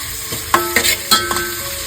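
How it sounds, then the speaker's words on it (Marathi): Onion and garlic paste sautéing in a pan for veg biryani, a soft steady sizzle broken by a few scraping stirs, close and fairly quiet with no talk. "व्यवस्थित सर्व परतावून घेतोय इकडे आपण लसूण पेस्ट सुद्धा बनवली होती ती घालून घेतलेली आहे"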